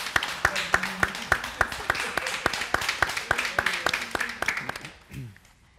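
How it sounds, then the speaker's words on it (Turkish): An audience applauds to welcome performers onto a Turkish television studio show about aikido, with brisk, steady clapping that fades out near the end. "Bir alkışlarla onları biz alalım."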